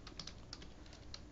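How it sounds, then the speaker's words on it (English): Computer keyboard typing, a faint, steady run of light key clicks with a few sharper taps, heard close but at low level against quiet room noise. "I have copied, so why am I typing it?"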